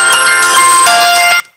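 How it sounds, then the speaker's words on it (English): A phone rings loudly and close by for an incoming call, playing a bright, bell-like ringtone melody that holds steady, then cuts off abruptly. "I don't know if you can hear that phone call coming in."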